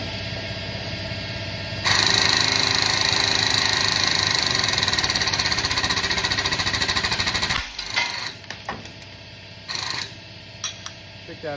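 A hole punch driven through quarter-inch thick steel in a home workshop, heard as a loud, steady mechanical hammering drone that runs for several seconds, then stops abruptly and leaves a few short clanks and knocks.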